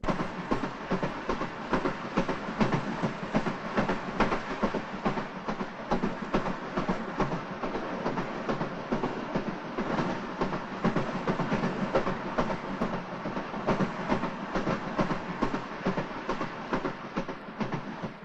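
Poona Express passenger train rolling along the rails, a steady continuous rumble with rhythmic clatter of wagons running close and loud throughout, no voices.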